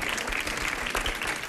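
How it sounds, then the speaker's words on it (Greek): Studio audience claps in a quick burst for a contestant being called up on a Greek game show, dense and loud applause filling the whole moment. "Ένα χειροκρότημα για τη Στέλλα"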